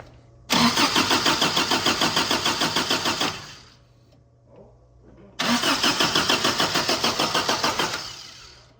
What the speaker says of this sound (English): Right as I stop cranking, it bounces.